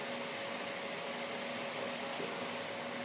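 A Cooler Master Jetflow 3 computer case fan runs with a steady, even airy whoosh and a faint tonal hum, constant and unbroken throughout.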